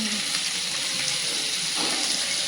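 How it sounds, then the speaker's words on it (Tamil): Dried nangu fish fries in a pan with a continuous, hissing sizzle, steady and fairly close, with no distinct stirring or talk. "நங்கு கருவாடு வறுத்துட்டு இருக்காங்க."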